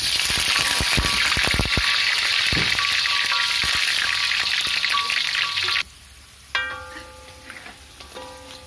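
Washed taro slices fry in hot oil, a loud, dense crackling sizzle with scattered sharp pops and stirring, which then drops abruptly to quieter clinks and faint bubbling.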